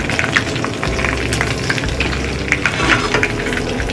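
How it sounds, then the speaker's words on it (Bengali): A dried red chilli and black cumin sizzle in hot oil, already used to fry prawns, making a steady close crackle with scattered pops, no talk over it. "এবার সেই তেলে দিয়েছি একটা শুকনো লঙ্কা আর দেবো অল্প কালো জিরে।"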